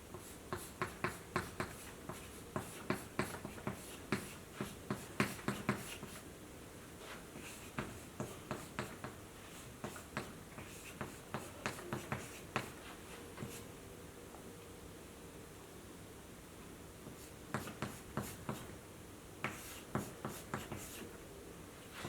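Chalk or marker scratching out a gene sequence on a classroom board, a steady series of short, quick strokes in clusters with brief pauses between bursts, fairly quiet and with no talk over it.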